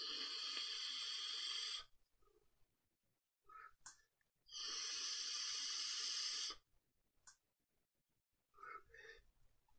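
Two long, steady airy hisses of inhaling through a Viva Kita Solo 2 vape kit set to 40 watts, each lasting about two seconds, with quieter exhale breaths and small mouth sounds between, no talking.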